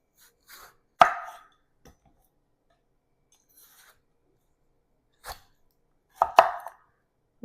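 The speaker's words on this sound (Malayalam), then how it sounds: "ഇനി ഓരോന്നായിട്ട് ചെറിയ ചെറിയ പീസുകളായിട്ട് നമുക്ക് കട്ട് ചെയ്തെടുക്കാം" A knife chopping watermelon into small pieces for a watermelon feta salad, a few sharp separate cuts against a board with quiet gaps between them, close and crisp with no talk.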